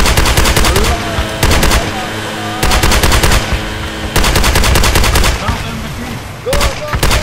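Rapid automatic gunfire in the Project Reality military game, loud bursts of machine-gun fire in several volleys separated by short pauses, with a voice speaking amid the shooting.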